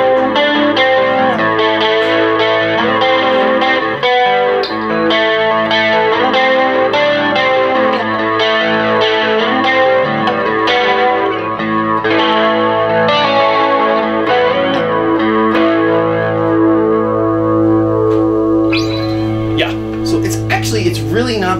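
Electric guitar through a Roland JC-40 amp with chorus and a touch of slapback delay rings out in shimmering, doubled chords and notes, continuous and loud for over twenty seconds with no gaps.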